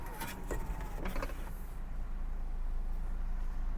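Power windows on a Renault Megane imported from Germany whir briefly inside the car, then give way to a low, steady cabin rumble.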